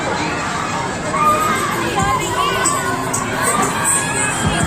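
A crowd of children at a riverbank Christmas event shouts and cheers loudly and continuously, with excited high voices overlapping through a lively outdoor din.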